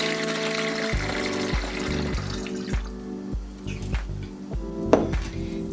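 Water is poured from a measuring cup through a funnel into a spray bottle for homemade disinfecting spray, a close gurgling stream whose pitch rises as the bottle fills, with a few small clinks.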